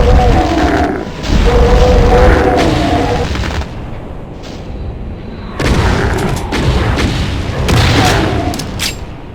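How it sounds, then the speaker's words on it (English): Flamethrower firing in the Doom video game, loud roaring bursts in two long stretches separated by a quieter gap, with booming blasts and no talk. "We're gonna use the flamethrower instead."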